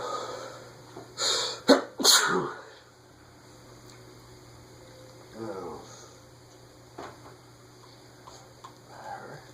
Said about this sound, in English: That's why he's sneezing.